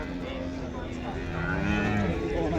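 A low, drawn-out moo from a water buffalo rises over steady background rumble at a livestock market in Mansa, fairly close and moderately loud.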